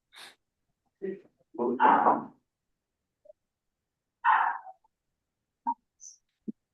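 A dog gives a short, throaty bark-like yelp, followed by scattered snorts and faint sniffing noises, with quiet gaps between them.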